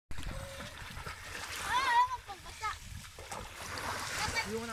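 A child splashing into water during family play, with a brief splash and rippling water under nearby adult talking and coaching in Filipino.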